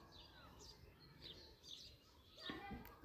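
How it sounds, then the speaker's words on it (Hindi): Birds chirp and tweet by a forest lake, faint scattered calls at a distance over quiet ambience, with a voice and some child-like sounds toward the end. "केवल पक्षियों की चहचहाने की आवाज़ आएगी आपको यहाँ पर।"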